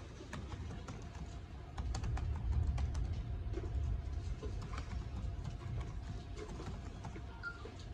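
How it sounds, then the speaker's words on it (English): Keys tapped on a computer keyboard to enter an account login, making a quick irregular run of light clicks over a constant background hum. "So just key in your account."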